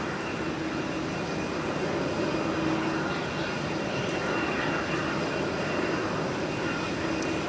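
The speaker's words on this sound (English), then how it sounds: "There's our big, beautiful Air France Dreamliner for you." An Air France Boeing 787 Dreamliner taxis at Minneapolis–St. Paul airport, a steady distant jet-engine whine and rumble holding level throughout, with no voices.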